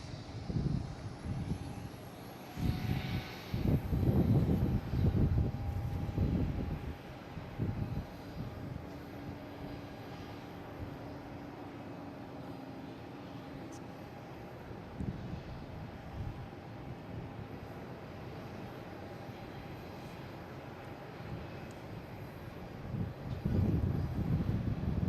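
Delta airliner on approach to Boston Logan airport, a low engine roar holding steady at a distance, with gusts of wind noise and occasional bumps.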